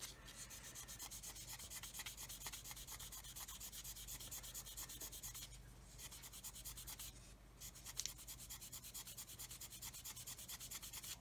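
A plastic scale model part, an Airfix 1/32 Humber armoured car, is sanded to remove an injection molding line: continuous close rasping strokes in a fast even rhythm, with two short pauses, no voices.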